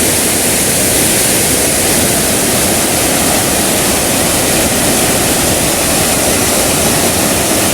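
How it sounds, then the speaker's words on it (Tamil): Steady, loud rushing of a waterfall in Sri Lanka, a dense unbroken roar with no pauses or voices throughout. "இந்த அருவியோட சத்தத்தை கேட்டாலே சும்மா சூப்பராக இருக்குது"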